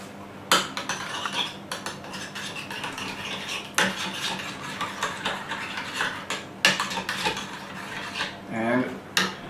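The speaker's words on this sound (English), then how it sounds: "So you take your yogurt, you add an egg to it, I'm gonna mix it up a bit" Yogurt and egg are whisked in a bowl, with a utensil scraping and clinking against the side in uneven strokes, close and fairly loud, with short pauses between bursts.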